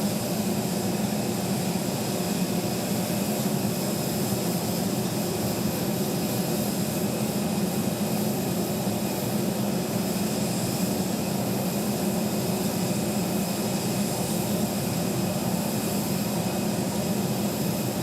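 A Southwest jet airliner landing at Phoenix Sky Harbor Airport, its steady broadband engine roar holding constant and fairly loud throughout, with no talk.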